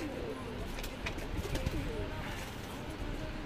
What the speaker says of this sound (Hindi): तो ये है वो आंध्रा वाले कबूतर।